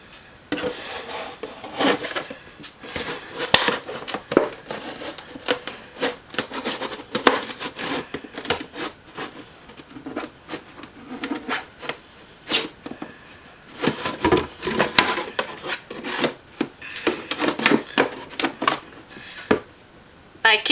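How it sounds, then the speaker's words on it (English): Heavy-duty kitchen scissors cut open a plastic jug, giving a run of close, uneven snips and rasping scrapes with plastic crinkling and rubbing throughout. "we're going to take some handy dandy heavy duty kitchen scissors"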